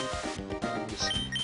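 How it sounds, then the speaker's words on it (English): A short electronic spray effect from the repel-style item in Pokemon Emerald, a bright chiptune burst of a few quick tones, loud and alone. "Just spray ourselves with this."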